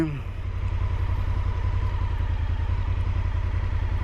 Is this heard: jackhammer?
no